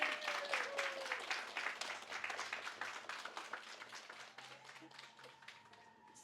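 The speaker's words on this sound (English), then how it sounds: "Another round of applause for our incredible speakers" An outdoor crowd at a rally to end child abuse gives the speakers a round of applause. The clapping is dense and steady and fades slightly toward the end, with no voices over it.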